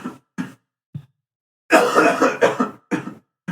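Someone coughs repeatedly in a podcast studio, with short separate coughs and then a longer harsh coughing fit. The bursts come in an uneven rhythm and sound close and loud.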